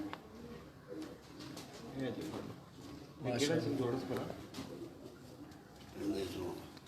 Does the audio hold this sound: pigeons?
yes